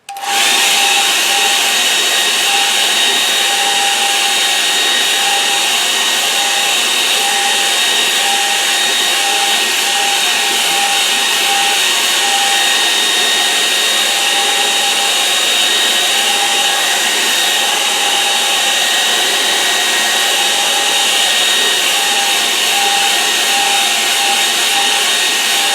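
Hair dryer blowing on a watercolour painting: a loud, continuous, close whirring blast of air that holds steady throughout with no talk.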